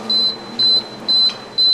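A prepaid electricity meter in a house in Komló beeps four times, thin high tones evenly spaced about half a second apart, clear and close with a quiet room behind them.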